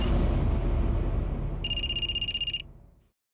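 A telephone bell rings in a rapid electronic trill for about a second, layered over a fading swell of dramatic music in an Indian crime drama scene.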